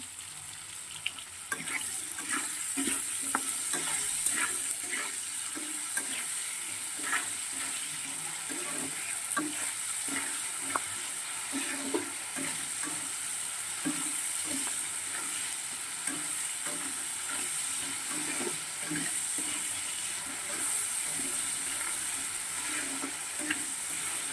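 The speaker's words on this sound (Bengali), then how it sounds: "আলুটা ভাজা ভাজা হয়" Potatoes frying in a pan make a steady, fairly quiet sizzle broken by rhythmic scrapes and knocks of stirring, continuous throughout.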